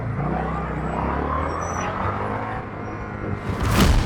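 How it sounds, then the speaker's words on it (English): Garbage truck on the road just ahead of a 2005 Kawasaki Vulcan motorcycle, a low rumbling engine drone close by, ending in a sharp hiss like an air brake. "I don't like being behind a garbage truck."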